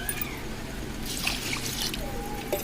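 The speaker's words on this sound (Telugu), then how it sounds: "బియ్యం వాష్ చేశాను కదా, దాంట్లో సరిపడగానే వాటర్ వేసి ఉడికించుకోండి." Water is poured into a pot of washed rice for chicken dum biryani, a close, continuous trickling pour with light splashing and no talk.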